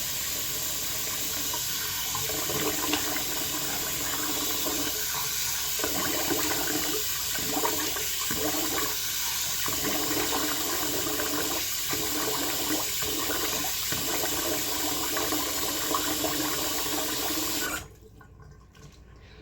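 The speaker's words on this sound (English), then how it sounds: "the sink drains slow because we're in a real house" Water gurgles and trickles steadily down a slow-draining sink in a real house, a continuous close wash of flow with faint bubbling, cutting off abruptly near the end.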